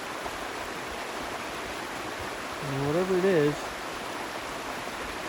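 A river runs steadily through the whole stretch, a soft continuous rushing flow with no breaks, while someone speaks briefly over it near the middle.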